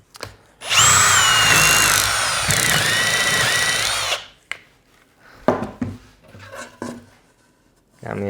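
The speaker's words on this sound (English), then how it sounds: "And now to do some sample drilling." A power drill fitted to a portable multi-angle drill guide whines loudly for a few seconds, bearing into wood, then stops; scattered knocks, handling noises and a brief voice follow.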